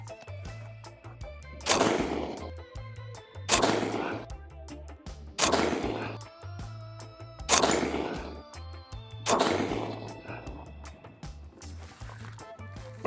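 Five loud, close gunshots from a Foxtrot Mike FM45 AR-style carbine firing 230 grain HST standard-pressure .45 ACP rounds, spaced about two seconds apart, each with a sharp crack and a short echoing decay over music.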